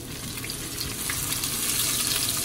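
Onions dropped into a hot pan with garam masala for a fish head and mung dal dish, a steady loud sizzle and hiss running without pause and no voices.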